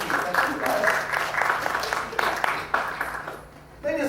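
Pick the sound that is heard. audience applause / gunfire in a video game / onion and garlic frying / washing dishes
audience applause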